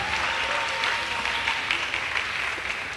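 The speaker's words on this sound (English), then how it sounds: "Please, they are not seated yet, so let's keep on clapping." An audience applauds continuously for performers taking their seats at a university technology week event, dense, close clapping sustained at an even level with a faint voice underneath.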